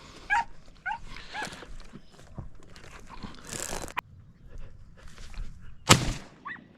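Hunting dogs bark and yelp during a rabbit hunt in open country near Mendota, California. The barks are scattered and close, with crunching movement through brush between them and one sharp loud bark near the end.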